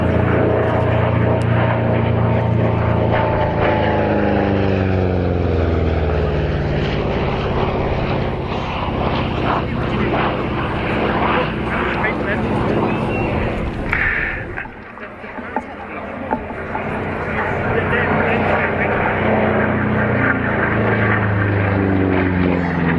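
A WWII propeller warbird such as a P-51D Mustang or P-47D Thunderbolt roars past at Cosford Airshow, its engine drone swelling and sweeping in pitch as it passes, dipping briefly midway before building again, with no talk.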